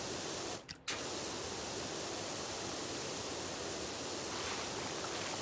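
Loud, steady hiss of water spraying fills the whole stretch, broken only by a brief dip near the start before resuming unchanged.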